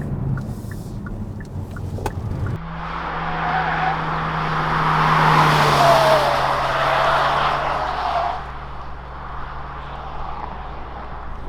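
A 2021 Hyundai Kona N-line with a 1.6-liter turbocharged gasoline engine accelerates in sport mode, heard from inside as a steady engine drone that swells into a loud rushing roar and then eases off.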